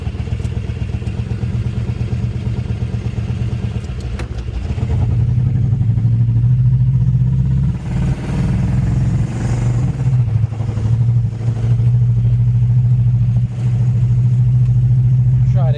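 A Ford 302 V8 swapped into a Nissan Hardbody truck with an AOD transmission and bed-mounted radiator idles, then revs up and holds a loud, throaty drone while driving, with rattles and clatter riding over the engine.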